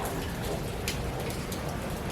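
Rain falling steadily on a garden of carrot plants, a continuous soft patter with a few brighter drop hits, heard alone.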